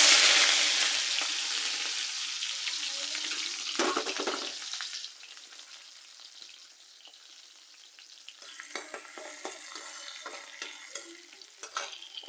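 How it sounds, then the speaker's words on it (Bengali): Dried gonia fish frying in hot oil with chopped onion and garlic, a loud steady sizzle close by that eases partway through, broken by scraping stirs and light clinks. "তারপর এর মধ্যে আমি শুটকিগুলো দিয়ে ভেজে নেব ভালো করে"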